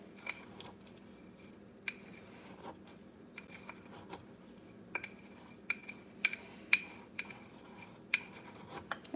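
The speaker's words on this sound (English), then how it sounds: "And just mix it up until it's green." A spoon stirring a mixture in a small bowl, with sharp metallic clinks and scrapes against the sides at irregular intervals over a quiet, soft background, nearby and fairly faint.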